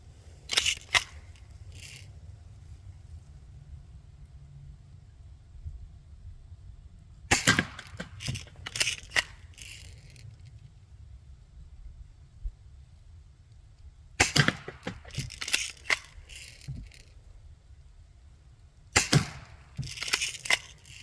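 A Daisy Winchester 12 pump action BB gun is shot indoors in several bursts. Each burst has a sharp crack followed by quick clicks and metallic pumping, with quiet pauses between bursts.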